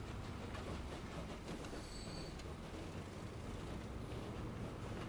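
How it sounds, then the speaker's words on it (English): Trains rolling into a station in the Transport Fever 2 rail simulation game, with a steady dense rumble of wheels on track, a brief high wheel squeal near the middle, and no talk. "we're waiting for trains to come in"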